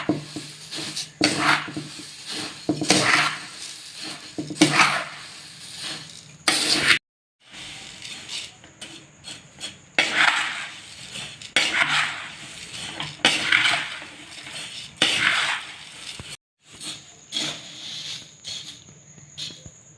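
Bhadang, a spiced puffed rice chivda, being tossed and mixed in a pot, with repeated dry rustling and scraping bursts and clinks of a spoon against the pot, close and fairly loud, separated by brief pauses.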